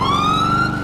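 An ambulance siren wails in the police mod LSPDFR for the game GTA V, a loud, close, rising electronic tone that carries on alone without speech.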